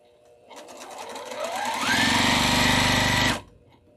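A home sewing machine speeds up from a slow start to full high-speed stitching, a loud steady rattling whir that holds for over a second, then stops abruptly, with no talk over it.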